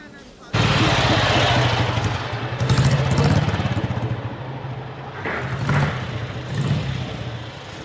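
A motorbike pulls up outside a country police station, its engine a loud steady drone from the start with revs swelling and easing, partly under talk.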